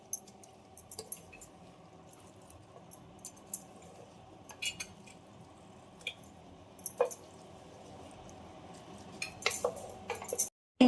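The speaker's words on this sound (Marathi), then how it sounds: "मी जे मटण घेतलं ते हलवलं" Mutton biryani with soaked rice is stirred in a pot over a low flame, making intermittent soft squishing scrapes and light metallic clinks, close and quiet, with a sharper clatter near the end.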